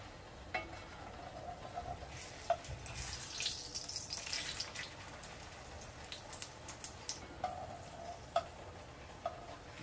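A corn tortilla fries in hot oil for green enchiladas, a soft, thin sizzle with scattered small pops and crackles, fairly quiet and close, with no voices.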